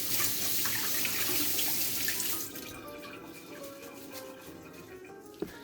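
A kitchen tap runs strongly while kale is rinsed beneath it. The close rushing water spatters for a couple of seconds, then quietens to a softer trickle, ending with a small knock.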